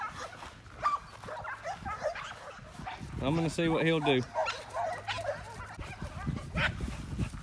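Several dogs in a kennel yard bark loudly for about a second at close range, with scattered yips and barks before and after, while someone talks over them throughout.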